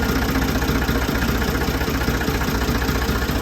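A Ford 2000 tractor engine runs after its first start in a year, a loud close diesel chug with a steady rapid knocking pulse throughout.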